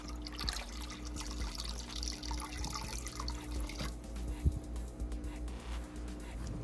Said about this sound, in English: Trying not to dump out all of the water in here